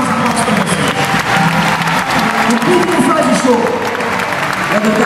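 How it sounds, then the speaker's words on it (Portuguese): Concert crowd at the Coliseu do Porto applauding at the close of a show, loud continuous clapping and crowd noise with voices and some music underneath. "aplausos"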